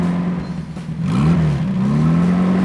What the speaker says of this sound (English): It's 845cc pushrod engine, rear mounted.